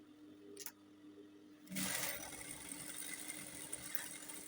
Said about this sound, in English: I'm going to sew that down and then you can continue